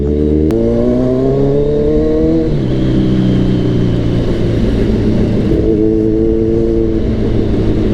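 A 1000cc Kawasaki Z1000 motorcycle ridden on the road, its engine note loud and close, climbing in pitch, dropping at a gear change, then holding a steady drone with small shifts in revs.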